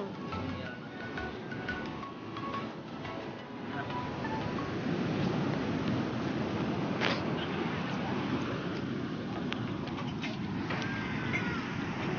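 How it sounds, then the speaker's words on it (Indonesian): Birds calling on a beach in Kebumen, with soft cooing and scattered chirps heard over a steady wash of surf and wind; a voice speaks briefly. "Burung."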